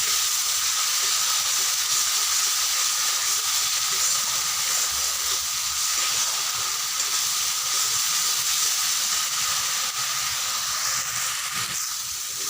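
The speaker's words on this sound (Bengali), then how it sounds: "যতক্ষণ না মশলা থেকে তেল ছাড়বে ততক্ষণ কিন্তু কষাতে হবে।" Spice masala sizzling and frying in oil for a Bengali jackfruit (echor) curry, a steady, loud hiss that runs unbroken throughout with no voices.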